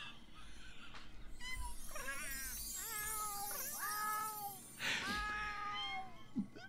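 Several cats in heat yowl and meow with rising, wavering cries, overlapping and drawn out, some loud and near, with a louder burst of caterwauling near the end.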